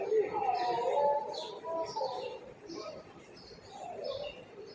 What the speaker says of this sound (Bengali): সুন্দর কাক ডাকা ভোর সকাল সকাল পাখি আওয়াজ করে কিচিরমিচির করি